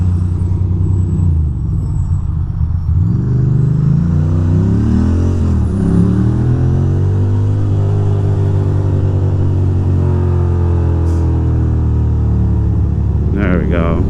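Heavy New York City traffic with a big truck nearby, a loud continuous engine rumble with shifting revving tones and a brief hiss near the end, steady throughout.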